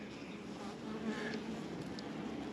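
Honey bees buzzing steadily in an open hive during an inspection, a dense, continuous hum close by with no talk over it.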